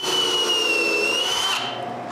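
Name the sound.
drill boring screw holes in wood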